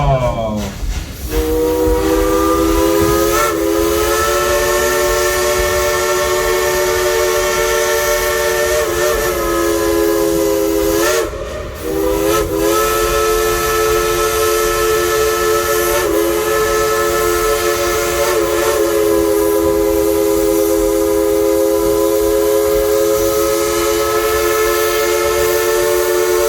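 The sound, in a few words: steam locomotive whistle blowing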